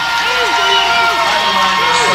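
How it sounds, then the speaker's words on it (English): A big crowd at a boys high school basketball game, South Charleston against Greenbrier East, keeps up a steady roar of cheering in the gym while an announcer talks over it. "And listen to this big crowd."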